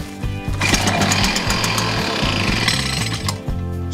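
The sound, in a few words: backpack leaf blower engine starting and running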